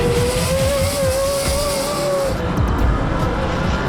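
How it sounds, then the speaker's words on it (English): Off-road race trucks roar past at the TORC Primm race, a loud sustained engine whine with a shifting pitch that cuts off, leaving heavy engine and track rumble. "During the restart, Menzies and Greaves continue leading the pack"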